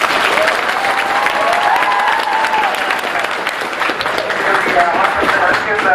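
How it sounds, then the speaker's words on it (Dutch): Dense, sustained applause from an audience filling a school hall, loud and steady from start to finish without a break. "applaus uit de zaal"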